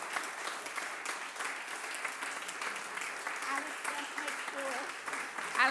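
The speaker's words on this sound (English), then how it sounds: "let's give a round of applause for John Raisin" Round of applause from the audience at a corporate awards ceremony, steady moderate clapping throughout, somewhat distant and reverberant in a large hall.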